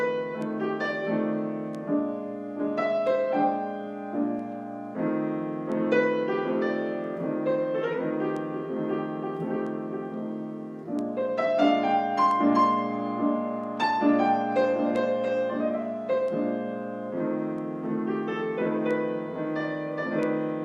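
Solo piano blues improvisation in G, the right hand playing free melodic runs over a steady left-hand blues pattern, sustained and evenly loud throughout with no voices.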